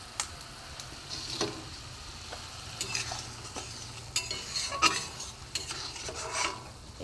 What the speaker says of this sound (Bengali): ঝোলটা ফুটছে ভোলা মাছের কারি করার জন্য।